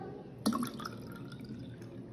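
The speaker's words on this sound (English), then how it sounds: "now we will add everything together. Sugar syrup, orange juice and blue color water." Blue-colored water pours into a mix of sugar syrup and orange juice while a blue lemonade drink is made for preschool children, giving a brief liquid splash and drip near the start, then quiet.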